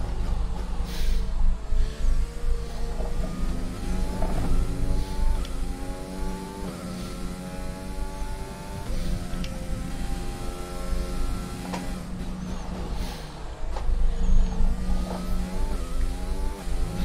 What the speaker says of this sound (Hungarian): Nekem nagyon Honda motornak tűnik.